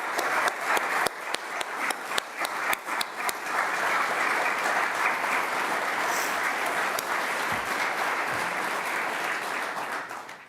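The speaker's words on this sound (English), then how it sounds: "I think you deserve a round of applause for what you do" A crowd at a sheriff's retirement ceremony bursts into sustained applause, starting with a few sharp individual claps that swell into a dense, even wash of clapping lasting about ten seconds before tapering off.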